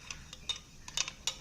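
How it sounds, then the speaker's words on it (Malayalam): A spoon stirs a glass of chia seed drink sweetened with honey, giving a quick run of light, faint clinks and taps against the glass, alone and close. "1/2 ടീസ്പൂൺ തേന ഒഴിച്ചിട്ട് നമുക്കിത് നന്നായിട്ട് ഇളക്കി കൊടുക്കാം."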